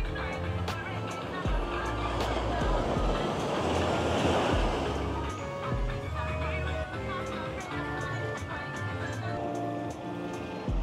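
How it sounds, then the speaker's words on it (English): Ocean waves in Bimini break against a wall in a continuous, fairly loud wash of surf, with wind noise on the microphone throughout. "The water and the waves is making me want to get in the water."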